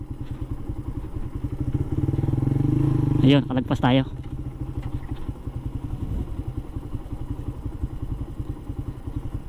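A motorcycle rolls slowly down a steep slope on its brakes, its engine chugging at a low, steady idle throughout. Someone speaks briefly near the middle, and there are a few soft clunks.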